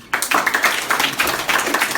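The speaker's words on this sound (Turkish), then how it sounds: "Arda'ya bir alkış bir daha" An 8th-grade class in a Turkish classroom gives a quick round of clapping for a classmate, a brisk, dense patter starting abruptly and holding steady at close range with no talk.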